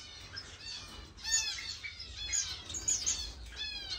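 Finches in an indoor bird room chirp and tweet in quick overlapping bursts, several birds calling close by over a low background hum, with occasional squawks and wing flutters.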